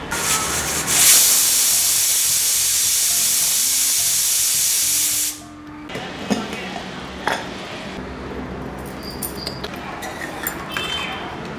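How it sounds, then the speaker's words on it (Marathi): A pressure cooker cooking mutton lets out one loud, steady steam whistle that runs for about five seconds, then cuts off, leaving faint kitchen clinks and soft rustling. "सो मटन शिजण्यासाठी आता कुकरमध्ये लावला आहे. ह्याला 4 ते 5 सीट्या आपण देऊया."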